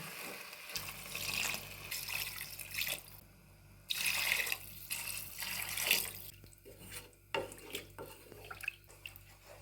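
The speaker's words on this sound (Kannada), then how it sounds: "ನೀರು ಹಾಕೋತಾ ಇದ್ದೀನಿ" Water pours and splashes into a cooking pot holding two glasses of rice for egg biryani, in a few bursts with short pauses, close by and fairly quiet, with no talking.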